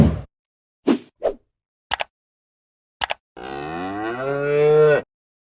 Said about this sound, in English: Look how happy all these cows are.